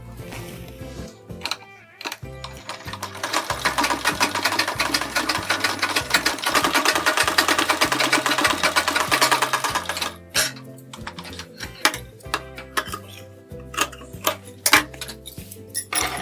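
A sewing machine stitches along the edge of a sleeve for a blouse, running in a steady, close-up whir for several seconds, then breaking into short stop-and-start bursts of stitching.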